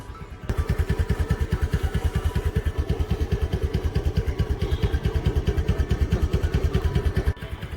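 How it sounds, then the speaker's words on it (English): A Honda Dio scooter engine idles steadily close by, a fast, even putter with a faint clatter that holds constant throughout. "You have to start the engine"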